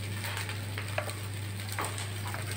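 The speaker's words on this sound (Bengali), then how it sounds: "চাল ডালের সঙ্গে একবারে কষিয়ে নিচ্ছি।" Rice, lentils and vegetables sautéing together in a pot for khichuri, a steady close sizzle with a few soft stirring scrapes and no talking.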